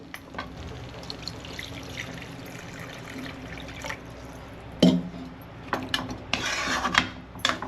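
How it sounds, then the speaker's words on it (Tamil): Water poured into a pot of homemade chicken gravy, a trickling splash near the end, with occasional clinks of utensils against cookware before and after. "இப்போ நம்மளுக்கு கிரேவிக்கு தேவையான தண்ணி ஊற்றிக்கலாம்"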